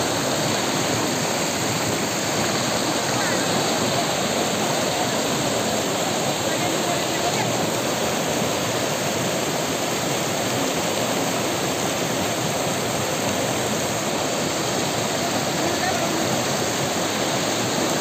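Waterfall on the Kalyani river, a steady, loud broadband roar of rushing water that stays constant throughout with no pauses.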